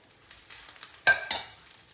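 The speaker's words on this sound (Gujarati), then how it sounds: "હવે એને આપણે મિક્સ કરી દઈએ." Cooked rice for mango rice is stirred and mixed in a pan, with a few faint, short scraping strokes, the loudest two close together.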